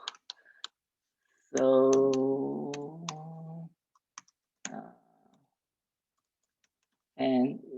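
Computer keyboard typing while HTML is written in a React coding session: scattered light clicks, some in short bursts, with a voice speaking over the middle stretch.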